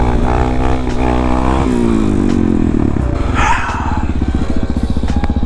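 Motorcycle engine running loud and close throughout while riding, with a steady pulsing idle and throttle changes, the note dropping and rising as the bike slows and moves on.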